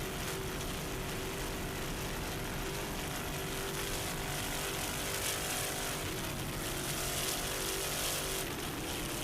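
A T-Custom Marine offshore racing powerboat roars at full throttle during an offshore grand prix, a dense, continuous engine drone heard at moderate distance with wind and water noise.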